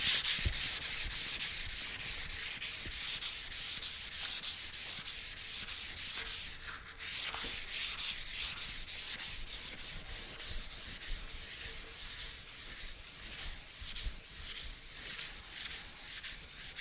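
A Suzuki motorcycle gas tank being sanded by hand with sandpaper, a steady rhythmic scratching of repeated strokes close up, continuous throughout with a brief pause midway and no talk.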